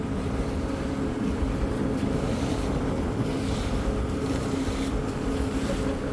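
Steady engine drone and rushing water from a passenger launch on a river as a large cargo ship overtakes it, with wind buffeting, loud and continuous throughout.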